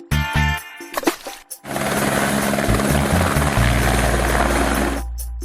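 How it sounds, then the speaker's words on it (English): A cartoon helicopter's rotor roars steadily and loudly for several seconds, following a few sharp musical hits. "Helicopter."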